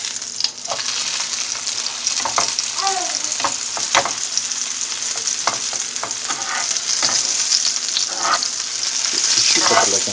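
Pieces of food fry in hot oil in a pan, a steady dense sizzle with crackles and occasional stirring clinks, close and continuous throughout, with no talking.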